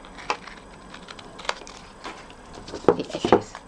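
Paper edges being trimmed for a Stampin' Up! pop-up cube Valentine, heard as a few soft, scattered snips and taps at close range, with two louder cuts near the end and no talking.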